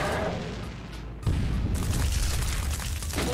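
Explosions going off in the shooter game Doom, a loud continuous booming roar with a sharp surge partway through, dense rumbling blasts sustained to the end.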